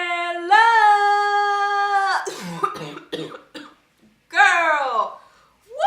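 A person who is a little under the weather coughs a few times in short, rough bursts. Drawn-out vocal sounds from the same voice come before and after the coughs.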